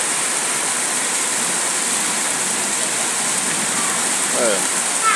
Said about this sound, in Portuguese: E continua caindo chuva.